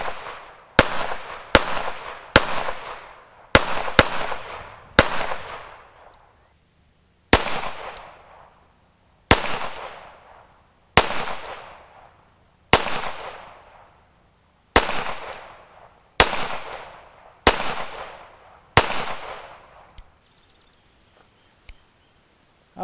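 Handgun firing old neglected ammunition, about fourteen sharp loud shots, first in a quick cluster and then at steady intervals of a second or two, each crack trailing a short decay, with no voices heard.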